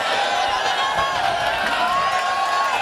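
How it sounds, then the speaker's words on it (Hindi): An audience at a mushaira poetry gathering in Badnera, Amravati, giving a steady wash of crowd noise with clapping and cheering. A voice comes through the din. "जोरदार तालियां बजा दी फिर इसी बात पे"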